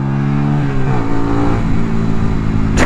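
Yamaha Virago XV125 V2 chopper motorcycle engine revving up close, a steady low throb that rises in pitch and falls back, running alone for about three seconds.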